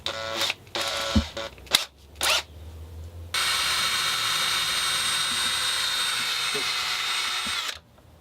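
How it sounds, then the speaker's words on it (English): Power drill fitted with a spade bit on an extension bores through a drum membrane, a steady loud whirring grind running about four seconds after brief clatter and handling noises at the start. "So we're going to drill the membrane in here."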